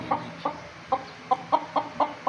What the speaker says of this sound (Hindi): मुर्गे भी बोलने लग गए हैं